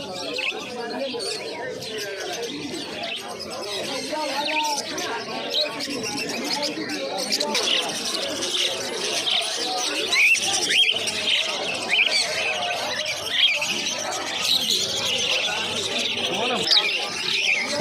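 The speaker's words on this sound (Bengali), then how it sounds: "এখানে এক জোড়া কনুর পাখির জোড়া রয়েছে সান কনুরের সঙ্গে ঝান্ডিয়া কনুর রয়েছে" A pair of sun and jandaya conures call nonstop at a busy pet market, shrill squawks and chirps mixed with cooing pigeons and other birds in a dense, continuous chorus.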